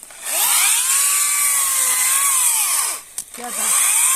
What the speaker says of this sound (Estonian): töötab küll selline saag ju